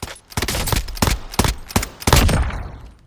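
A Warzone rifle in single fire mode, several sharp, closely spaced shots in a steady rhythm, loud and close, ending in a heavier burst with a fading tail.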